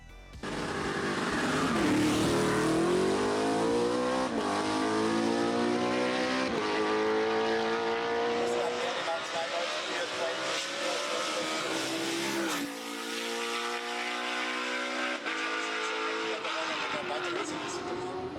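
A BMW Z4 GT3 race car on a track revs hard, its engine pitch climbing and dropping through repeated gear changes. The engine stays loud throughout, and a voice talks over it.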